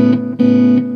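Cigar box guitar with a B-bender, played without the crescendo pedal, sounds a couple of sustained plucked notes with a clear attack and steady ringing tone, close and alone.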